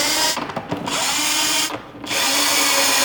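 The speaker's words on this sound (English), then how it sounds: "we're gonna bolt this to our mock-up block so we know exactly where we" A power drill or impact driver bolts a part onto a Chevy mock-up engine block, running loud and steady with two short pauses where the motor drops off before spinning up again.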